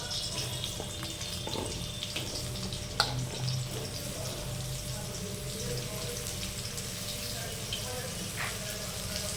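Cut potato pieces fry gently in hot oil for a soybean and cashew curry, a steady low sizzle and bubbling with one faint utensil knock near the start.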